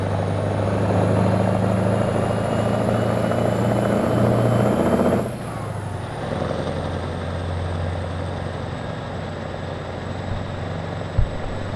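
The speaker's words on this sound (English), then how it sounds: "I do like the sound of this engine." A Kenworth K100 truck engine in American Truck Simulator drones steadily and loudly with a low rumble, then drops in level and pitch around midway as the engine note changes, continuing as a softer, even hum with a brief thump near the end.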